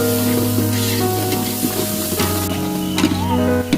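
Chopped tomatoes sizzle and fry in hot oil in a pan while cooking jackfruit biryani, a steady close hiss with light crackles and occasional stirring clinks, with a continuous hum underneath and no talking.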